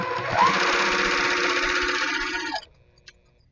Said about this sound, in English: I've sewed past my first seam, so I'm going to make sure that my second seam nests properly